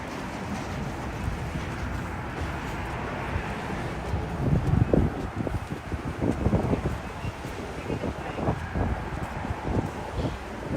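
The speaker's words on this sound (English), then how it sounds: "It's very windy." Strong wind rushes steadily outdoors in New York City, a broad roar buffeting the microphone with gusts swelling in the middle and no voices heard.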